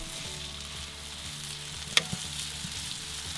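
Onions frying in bacon grease, a soft, steady sizzle close by, broken by one sharp clack of a utensil against the pan near the middle, with no voices.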